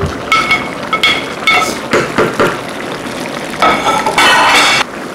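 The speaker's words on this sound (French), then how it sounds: "je vais venir ajouter ceci dans ma sauce de gombo" Fish is added to a pot of simmering okra sauce, giving a run of close, loud clattering and scraping bursts with a bright metallic ring and some sizzle, irregular and uneven over five seconds.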